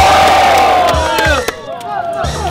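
A crowd roars and cheers at a Filipino street rap battle in the Sunugan Kalye league. The whoops and shouts are loud and close, then fade slightly, with a few sharp yells toward the end.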